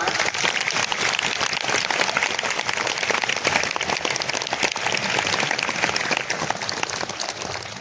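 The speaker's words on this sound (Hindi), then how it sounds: "ये हम सब ताली बजाएं।" A large congregation at a Catholic bishop's ordination Mass in Gumla, India, applauds in a continuous, loud, rain-like roar of clapping that holds steady for about eight seconds.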